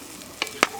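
Home-garden potatoes tossed into chilli in a pan at a woodland campsite: two brief, sharp clatters over a low, steady background.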